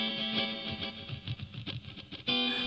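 Korg PA700 arrangement keyboard playing a track with master reverb added, a bright sustained chord giving way to a busy rhythmic passage and then a returning chord, the sound washed with lingering reverb.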